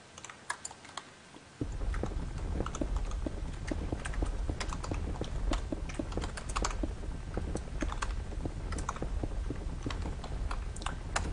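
Computer keyboard typing during a game chat, a dense, fast patter of clicks that starts quietly and then becomes steady and close, continuing without talking.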